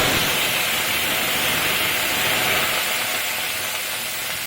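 Potatoes dropped into hot oil with fried spices (black cumin, fennel, fenugreek, radhuni), giving a loud, steady sizzle like broad hiss that stays constant for several seconds with no voices.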